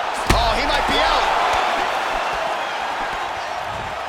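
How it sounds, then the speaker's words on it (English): A video game crowd roars and cheers continuously in a PS5 UFC middleweight fight, with a sharp impact thud near the start and an excited announcer-like voice under the noise. "And you hear the crowd react every time."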